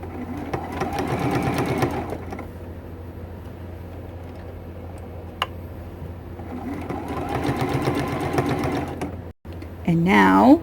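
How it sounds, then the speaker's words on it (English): A sewing machine runs in two long stitching bursts, sewing closed the opening in a T-shirt quilt, with a steady mechanical hum and a pause between passes, then a brief higher whirr at the end. "Go right over top of that opening and sew it closed."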